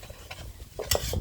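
Beef sizzles in a pan while a utensil scrapes and stirs it, with short clattering scrapes over a soft frying hiss.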